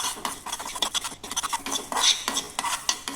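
Spices dry-roasted in a pan with a little oil until reddish for a mango huli gojju masala, a utensil stirring and scraping in steady irregular strokes against the metal, close and fairly quiet, with no voices.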